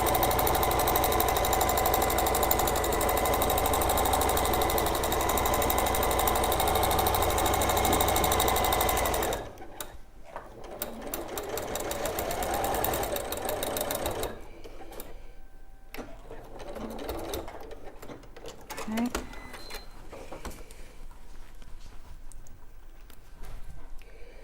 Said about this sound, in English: Let's step up the speed a bit. So again, you want to do a couple of back stitches just to secure it.